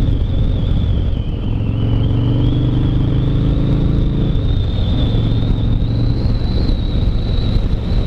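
A Harley motorcycle engine revs up and holds a throttle, loud and close, with heavy wind rushing over the microphone behind a windshield throughout.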